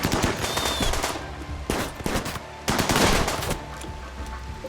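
Rapid automatic gunfire from a RimWorld battle, dense bursts of machine-gun fire with brief gaps, loud and continuous over a layered game soundscape.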